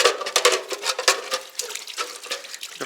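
An airless spray gun used with oil-based paint is rinsed in water, giving a busy, close splashing and trickling wash with uneven surges and small drips throughout.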